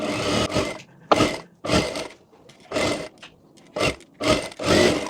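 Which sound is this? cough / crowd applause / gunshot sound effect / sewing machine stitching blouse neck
sewing machine stitching blouse neck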